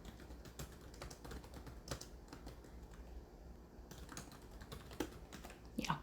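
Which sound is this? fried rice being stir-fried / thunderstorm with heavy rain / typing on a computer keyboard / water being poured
typing on a computer keyboard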